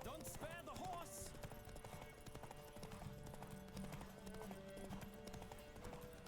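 Galloping horse hooves in a Witcher 3 video-game horse race, a steady rapid clip-clop running under game music, rider voices and a whinny or two.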